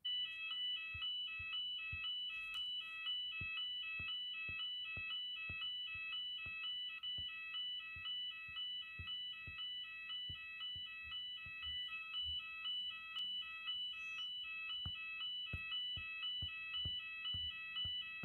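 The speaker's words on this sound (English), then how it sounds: "That actually set my alarm off." A steady electronic alarm tone sounds continuously at a moderate level, with scattered soft clicks and taps underneath.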